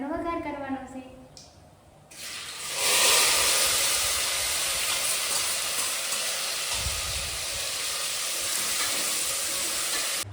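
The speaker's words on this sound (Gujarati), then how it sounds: "તો હવે હું એનો વઘાર કરી નાખું" Oil sizzles loudly as a tempering (vaghar) of popped mustard seeds and spices goes in for poha, bursting into steady hiss after a short stretch of quieter frying sounds, then continuing strongly to the end.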